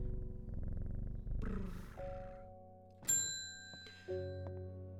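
Purring of a cat in the video game Strange Horticulture after being petted, a low steady rumble under soft game music with bright chime tones ringing in partway through.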